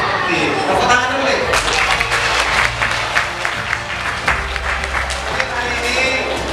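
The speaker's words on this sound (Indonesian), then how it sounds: "Tepuk tangan dulu." An audience in a hall claps steadily for several seconds at a talk about becoming a military cadet, with chatter and voices mixed into the continuous applause.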